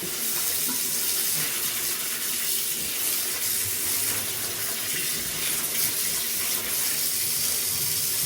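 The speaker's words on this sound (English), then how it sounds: "Cold water. So I'm just gonna rinse" A tap runs hard and continuously, a loud, steady gush of cold water hissing into a basin as a dress's fabric is rinsed beneath it.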